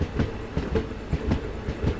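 Rhythmic clickety-clack of train wheels over rail joints, a steady rumbling beat from inside a fast-moving night train from Digha to Kolkata.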